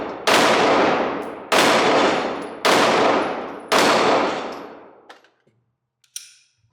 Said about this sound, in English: So let's shoot some expensive ammo and then a few rounds of inexpensive ammo.